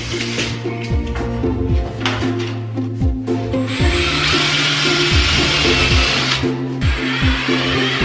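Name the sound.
mounting tool hangers across a wooden beam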